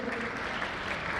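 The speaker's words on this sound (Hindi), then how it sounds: "जोरदार ताली के साथ उनका अभिवादन करें" Loud, dense applause fills a ceremony hall as a doctor and his wife are honoured at a medical awards event at The Royal Palace, a steady burst of many hands clapping.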